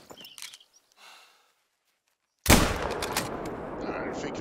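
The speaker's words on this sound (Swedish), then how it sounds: "Där fick vi väl ett bra skott på en liten räv." A sudden loud blast of hunting-rifle gunfire at a fox in the video game theHunter: Call of the Wild bursts in after near silence, followed by sustained noisy crackle and rumble.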